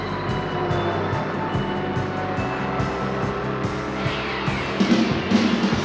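A race car roars continuously at close range as it accelerates on a circuit, its engine note rising and stepping through gear changes, with a brief tire scrub near the end.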